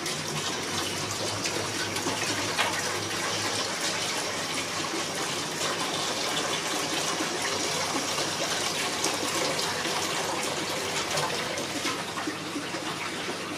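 One litre of laksa stock pours steadily into a cooking pot, a continuous close gushing splash that stays loud and even throughout, with no voices.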